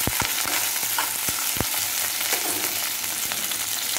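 Cut ivy gourd (tindora) pieces fry in hot oil, giving a steady sizzling hiss with frequent sharp crackles and stirring scrapes.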